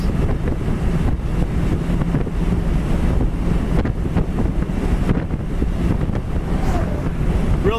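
A 1966 Ford Mustang convertible, an A-code GT, cruising straight down the road, with steady loud wind buffeting and broadband road and engine rumble running continuously throughout.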